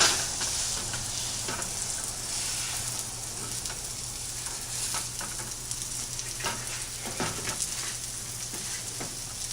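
Thin breaded veal cutlets browning in a hot pan, a continuous loud sizzle and crackle of frying oil with occasional sharper spits and pops, no voices.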